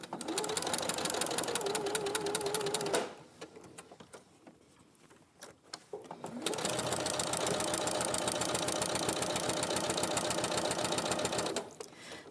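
A sewing machine bastes fabric pieces within a quarter-inch seam line, running in a fast, steady stitching rhythm, pausing briefly for a few clicks and handling sounds, then resuming for another long even run.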